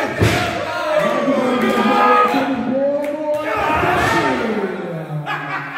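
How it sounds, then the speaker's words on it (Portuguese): A crowd at a Brazilian wrestling show claps and cheers in swelling bursts, with shouts, thuds and loud voices mixed in, lively and close. "A galera vai se empolgando. Vai batendo, vai batendo palma."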